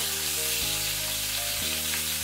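Pointed gourd (parwal) pieces fry in hot oil, giving a steady, even sizzle with a low humming drone beneath it.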